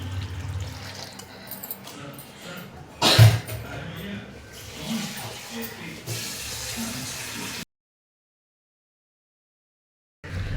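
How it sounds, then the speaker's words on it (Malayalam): Tamarind water is poured into a cooking pot for rasam, a watery splashing and gurgling pour with a sharp burst partway through, then the sound cuts to silence. "ഇനി കുറച്ച് പുളിവെള്ളം"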